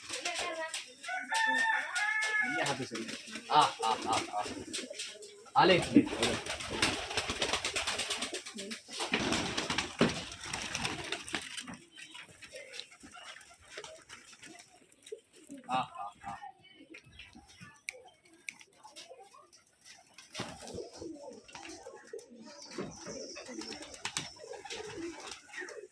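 Pigeons on a farm of Rajshahi flying pigeons in Bangladesh, cooing and calling in a dense, continuous chorus nearby, with bursts of wing and movement noise.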